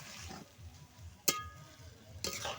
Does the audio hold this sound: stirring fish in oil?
yes